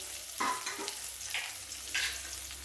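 Mutton chukka fries quietly in a pan under a low, constant sizzle, with a few sparse, distinct stirring scrapes spaced apart.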